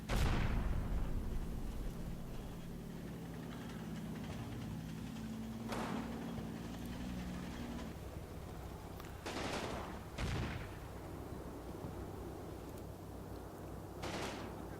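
Gunfire and explosions from a Normandy combat battle in a tactical war game: an initial heavy blast followed by several distant booms and shots spaced across a steady rumbling background, with no talking.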